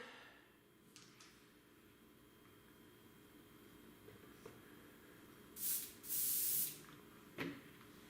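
An airbrush loaded with paint and flow improver gives several short, sharp hissing bursts of spray, near and moderately loud, against a quiet room background.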